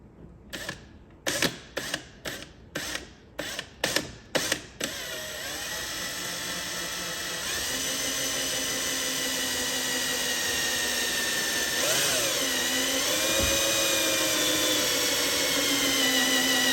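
A power drill runs into the front bumper of a 1998 Porsche Cayman S while fitting wire mesh grill screens, first in a series of short bursts, then a steady whirring grind held for several seconds, close and fairly quiet.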